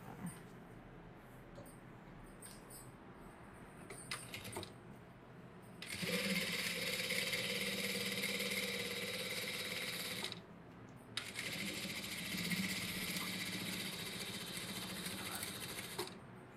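Sewing machine edge-stitching the lining of a blouse, running in two long steady bursts of fast rhythmic stitching with a brief pause between, close and clear, preceded by quiet handling sounds and no talk.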